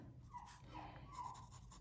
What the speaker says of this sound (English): my dog is whining in the background because he wants to go outside with the other dogs